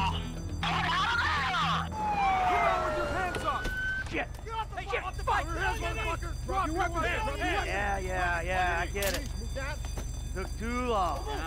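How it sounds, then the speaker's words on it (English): A police siren in the video game GTA 5 wails briefly with rising and falling sweeps, then is mostly covered by people talking excitedly over ongoing game noise. "I'm starting to hear cop noises."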